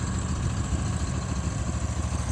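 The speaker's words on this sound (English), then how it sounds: "I'm gonna let her idle and give her a good warm up." The small engine of an ARGO 6x6 amphibious vehicle, a barn find, idles steadily nearby with a low, throbbing putter that holds a constant pace.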